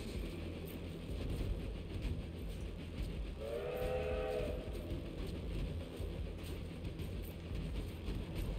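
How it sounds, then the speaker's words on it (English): A train in the LittleBigPlanet 3 video game rumbles steadily for several seconds, and a tonal whistle blows briefly partway through; no one talks. "Stop the train!"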